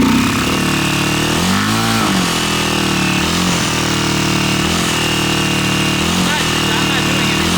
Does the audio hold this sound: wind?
no